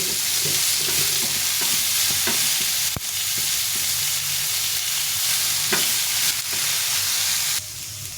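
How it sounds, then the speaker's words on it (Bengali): Spinach frying in a pan gives a constant close sizzle, with occasional stirring scrapes and taps breaking through the steady hiss and no voices. "এই শাকটা ভাজা ভাজা হয়ে গেছে"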